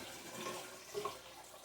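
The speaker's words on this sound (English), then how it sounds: "Just pour it in the sink." A liquid mixture from making apple pie moonshine poured into a sink, a steady, close splashing trickle of water with a few brief gurgles, no voices.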